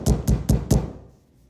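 Four firm, evenly spaced knocks on a house door at night, close and loud, then silence.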